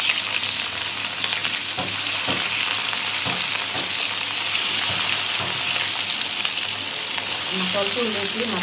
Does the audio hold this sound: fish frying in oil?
yes